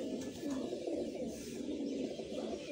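Pigeons coo softly and continuously, a low steady murmur from a flock settling in for the evening, with no other voices.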